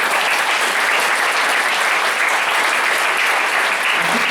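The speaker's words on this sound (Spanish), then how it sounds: "Denle palmas al Señor" A church congregation breaks into sustained, dense applause, a loud wash of many hands clapping steadily throughout with no pause.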